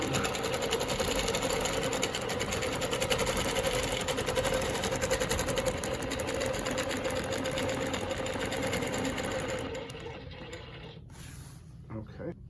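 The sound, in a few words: longarm quilting machine stitching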